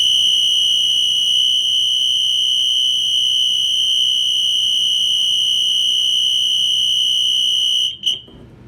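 A Wheelock NS-24-MCW fire alarm set to high-volume continuous mode emits a piercing, unbroken electronic tone at full strength for about eight seconds before cutting off abruptly, leaving a brief click and near silence.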